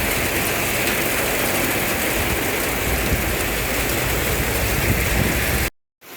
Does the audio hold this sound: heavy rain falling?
yes